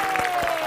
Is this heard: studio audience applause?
yes